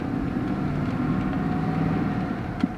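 An old pickup truck drives down the road, its engine and tire drone a steady, moderately loud hum from inside the cab, with a brief knock near the end.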